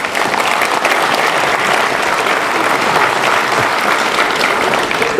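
Ceremony audience applauding prize winners at a 2017 New Year's greetings event in Mennecy, a loud, dense and sustained roll of clapping from a full room that stays steady throughout.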